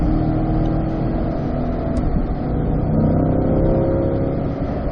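A car on the Spring Mountain racetrack accelerates out of a corner, its engine a loud, continuous close roar with steady road and wind noise.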